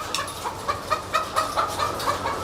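Hens cluck repeatedly inside a hen house around the drinking area and laying nest boxes, a busy overlapping chorus of short clucks, close and steady.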